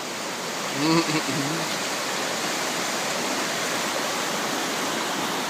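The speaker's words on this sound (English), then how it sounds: "That's some fast moving water right there." A waterfall and fast-moving stream in a wilderness river valley roar as a loud, steady rush of water, with a brief voice breaking in near the start.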